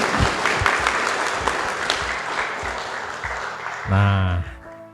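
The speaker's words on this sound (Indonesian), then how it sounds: "Kita tepuk tangan dulu." An audience at an Indonesian tourism talk bursts into steady applause, dense and sustained for several seconds, with a voice briefly rising over the clapping near the end before it fades.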